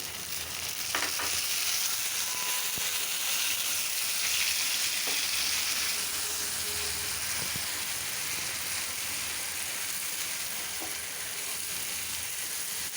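Small prawns fry with chopped tomato in a pan for prawn bhuna, a steady close sizzle with occasional faint knocks, continuous and untouched by speech.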